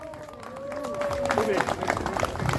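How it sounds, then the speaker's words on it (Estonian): Applause at a motorcycle club award ceremony, with a smattering of crowd clapping that builds over a couple of seconds while a voice calls out nearby. "aplaus oli lahja"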